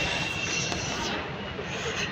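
A metro train arriving at a station rumbles steadily along the rails with a broad, continuous roar and a faint high squeal, sounding close by.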